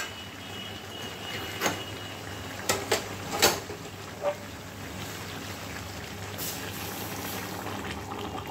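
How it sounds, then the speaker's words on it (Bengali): A pot of water heats toward a boil on a gas stove while a cucumber curry cooks nearby. The bubbling hiss is soft and steady, with a few sharp clicks and knocks scattered through it and no one talking. "এবার আমি ওদিকে গরম জল ফুটতে দিয়েছি, ওটা ঢেলে দেবো"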